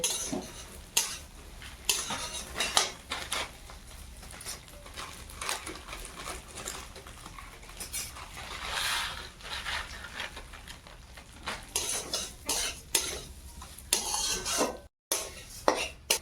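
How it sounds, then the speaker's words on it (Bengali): Steady sizzling as vermicelli fries in ghee, with frequent clinks and scrapes of a utensil stirring in a pan, continuous throughout with no talking. "সিমাইটা ভাজা হয়ে গেছে"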